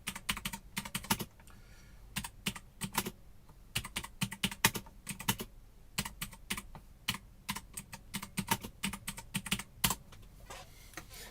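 A loud computer keyboard clacks in rapid, uneven bursts of typing with brief pauses, close and alone, with no voices.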